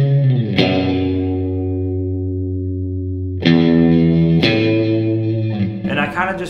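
A simple, open electric guitar part with a glassy, western tone, built from single sustained notes that ring out with chorus-like shimmer and reverb, each note struck cleanly and left to decay.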